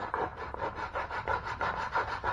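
A wooden crankbait lure body is filed by hand into a round shape, producing a close, steady run of rasping strokes, about nine in quick even rhythm.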